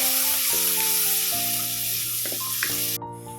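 Large chunks of chopped onion fry in a pan, sizzling steadily under a music track, with no voices.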